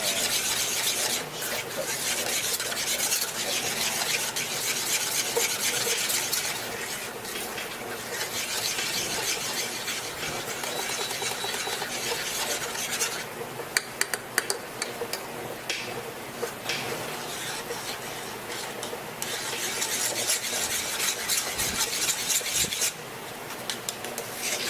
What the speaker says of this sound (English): So we just got to bring it down, keep stirring it.